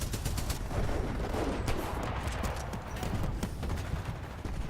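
Titanfall 2 multiplayer combat: dense, continuous rapid gunfire and impacts from titans, loud and close for the whole stretch, with no voices heard.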